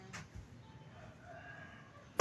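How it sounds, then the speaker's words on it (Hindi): A rooster crows in the morning in a rural home setting, heard faintly and at a distance in a brief call, with a louder sound cutting in at the very end. "मुर्गा देखो सुबह सुबह बोल रहा"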